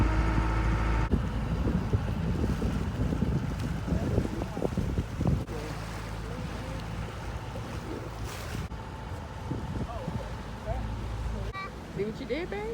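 A sailboat running downwind under open sails, with steady wind roar buffeting the microphone, water rushing and slapping along the hull, and people talking intermittently over it.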